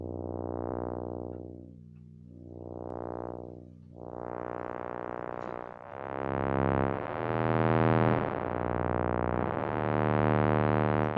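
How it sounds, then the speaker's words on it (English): A synthesizer filter sweeps a sine wave up and down repeatedly as it opens and closes, growing brighter and buzzier until it settles into a rich, harsh square-wave-like sustained note. "using the filter I can turn a sine wave into a square wave."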